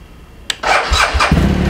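A 2017 BMW R1200GS TE motorcycle with a very weak battery cranks briefly after a sharp click, then its engine catches and settles into a rough, uneven idle, loud and close with no talk.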